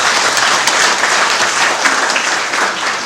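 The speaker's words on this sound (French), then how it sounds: "Un peu d'applaudissements, mes amis à Christian." A room full of guests at a Rotary Club collar-passing ceremony in Antananarivo applauds Christian, with dense, steady clapping that lasts the whole moment.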